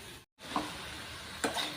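Idli upma is stirred and mixed in a hot pan, giving two short scraping strokes over a soft sizzle after a brief dropout, close and quiet with no voices.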